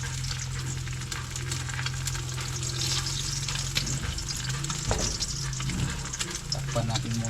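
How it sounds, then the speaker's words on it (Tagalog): Eggs frying in a pan give a steady, close crackling sizzle throughout, with a few faint knocks and scrapes; no words are spoken over it. "Luto tayo ng itlog."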